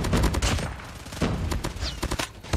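Rapid automatic gunfire in a first-person shooter game, a dense stream of loud, close shots hammering out continuously as the magazine empties.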